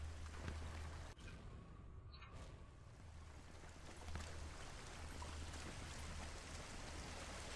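Water flows and rushes steadily in Sniper Elite 4, a faint continuous stream with soft splashy texture and a low hum underneath, no voices.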